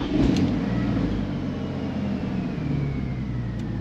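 A turbocharged BMW E46 engine idles steadily while warming up, a continuous low, even rumble heard close with no talk over it.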